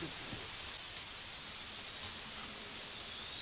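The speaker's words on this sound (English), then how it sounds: "It's just starting to sprinkle a little bit." Soft, steady hiss of light rain falling on surfaces at a wilderness campsite in the Sylvania Wilderness, even and continuous with no voices.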